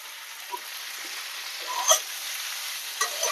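Mustard oil frying with onion and chili for a Bengali bhorta, with a steady soft sizzle under light stirring and utensil scrapes, close and fairly quiet.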